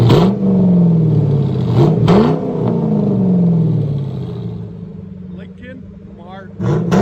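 A 1995 Lincoln Mark VIII with true dual exhaust and boom pipes is revved several times, each deep rev rising and falling over a rumbling idle nearby, with people talking around it.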